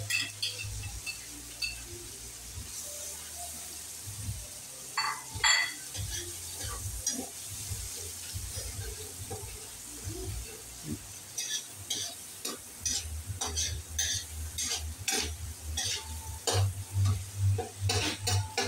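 Garlic, onion and liver stir-fried in a pan for pancit bihon, a steady sizzle with repeated scraping and clinks of a utensil against the pan, close and continuous with no talking.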